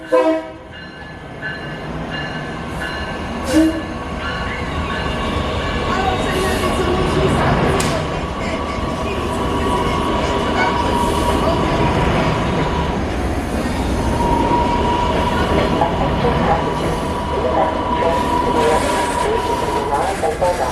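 A Chicago commuter train rumbles and rattles steadily through a station, with metallic squeals and a brief horn-like tone over a dense, continuous roar.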